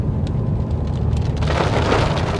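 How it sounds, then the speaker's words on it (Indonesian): Heavy rain pours down on the road during a road trip along the Citorek southern route, a loud continuous hiss of water that swells harder midway through. "Dan sudah mulai hujan"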